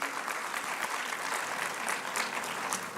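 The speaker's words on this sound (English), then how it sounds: "Can we have a huge round of applause for him?" An audience applauds a guest welcomed on stage at an international business conference; dense, sustained clapping fills the room evenly for the whole stretch.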